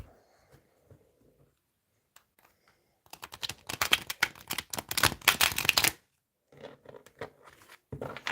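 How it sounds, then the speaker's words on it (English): Tarot cards being shuffled, a quiet start with a few light taps, then a rapid crackling riffle for about three seconds and a few shorter bursts of shuffling afterward. "One more shuffle"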